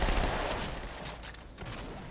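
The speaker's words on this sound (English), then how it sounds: "The SMG sounds great." Rapid SMG fire from Halo 2 rattles on continuously as a dense, loud burst of automatic shots. It dips briefly near the end and then resumes, with no voices.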